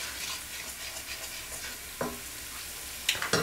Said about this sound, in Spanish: la harina hay que rehogarla bien porque si no sabe a crudo y sabe a harina la salsa